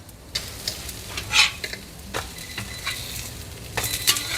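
Meat sizzles and crackles while frying in a pan, with irregular scraping and stirring clatters over the hiss as pieces are flipped, close and fairly quiet, no talking.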